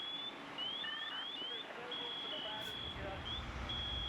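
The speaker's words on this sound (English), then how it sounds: "about 15, 20 seconds of no movement, that alarm will start going off" A motion alarm at a fire department emergency scene goes off after no movement, sounding a series of high, shrill electronic chirps and sustained beeps, fairly loud against rumbling background noise and faint voices.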